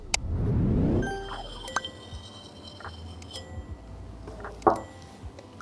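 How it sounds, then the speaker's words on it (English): S290 steel knife blade dragged across glass, a close, glassy scraping and squeal with a few sharp clinks and ticks, one loud click near the end. "Now let's try to cut some glass."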